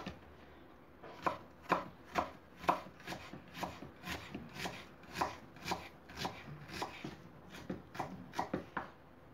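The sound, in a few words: chopping half an onion with a knife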